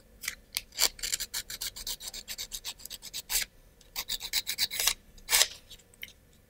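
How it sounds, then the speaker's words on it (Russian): Sandpaper rasps burrs off a small wooden washer from an Ugears wooden model kit, a close series of quick, uneven scratchy strokes in bursts, fairly quiet and with no voices. "теперь нам нужно вот эту шайбу, деталь номер 13, зашкурить и промазать свечкой"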